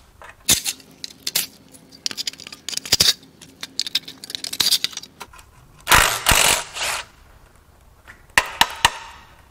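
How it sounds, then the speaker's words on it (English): Metal clanks, taps and rattles of tools and parts as heat shields and exhaust manifolds are taken off a Toyota 4.7L 2UZ V8 engine during a teardown, irregular bursts close up with a heavier clattering cluster midway. "Now let's get the heat shields and the exhaust manifolds off."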